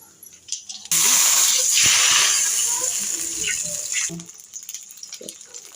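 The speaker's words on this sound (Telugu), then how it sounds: "ఓన్లీ కరివేపాకు ఆవాలు అదే పోపు దినుసులు అయితే వేస్తాను" A sudden loud sizzle bursts as mustard seeds and curry leaves hit hot oil, hissing steadily for a few seconds with faint pops before fading.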